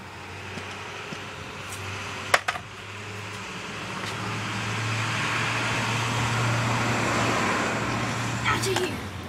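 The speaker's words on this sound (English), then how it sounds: "Is there a truck coming? Oh, it's UPS." UPS delivery truck passing on a road: the engine rumble slowly swells as it approaches over steady traffic-like noise, with a sharp knock and rattle near the start and a few clicks near the end.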